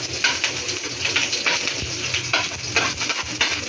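Garlic frying in hot oil on lowered heat for adobong sitaw, a close sizzle broken by rhythmic scraping strokes of a spatula against the pan, roughly every half second.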